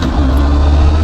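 A Honda CB500SF four-cylinder street motorcycle pulls away after an upshift, giving a loud, steady engine drone with a smooth low rumble that holds throughout, close to the listener and heard alone.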